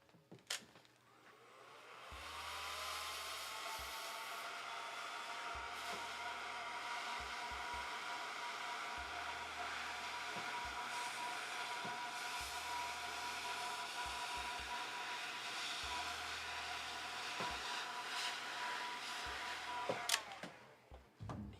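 A heat gun shrinks heat-shrink tubing onto a USB cable, blowing as a steady, airy whoosh that holds for nearly twenty seconds before clicking off.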